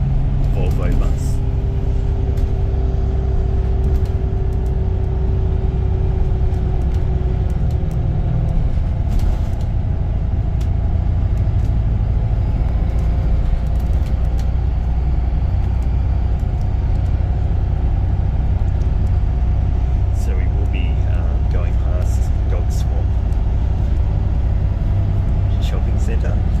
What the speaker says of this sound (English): It's of course a rigid Volvo bus.